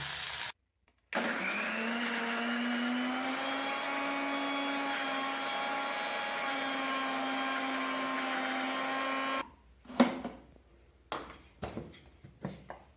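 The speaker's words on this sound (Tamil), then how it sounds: "மிக்ஸி ஜாரில் போட்டு அரைக்கணும்." A mixer grinder whirs loudly and steadily for several seconds grinding vallarai keerai (Indian pennywort greens), with a brief pause, then stops, followed by a few clattering knocks.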